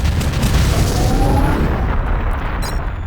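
A large explosion in the video game Turok 3: Shadow of Oblivion, a loud, sustained low rumbling boom that fills the whole clip with no talk.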